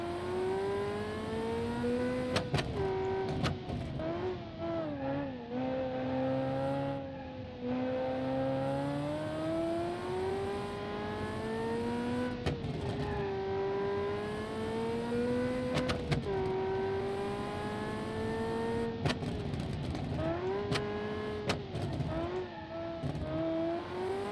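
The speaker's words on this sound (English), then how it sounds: "When the boost comes on, the engine overheats so badly. Well, it sounds good." Turbocharged car engine in the racing game Automation revving continuously, pitch rising and falling through repeated boost surges with clicks of gear changes, loud and steady with no talk.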